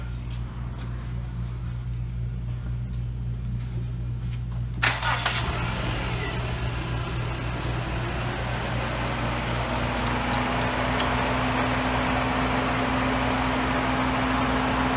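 A car engine starts and settles into a steady idle with the vehicle running for a transmission fluid check, a low hum continuing close by and unbroken to the end.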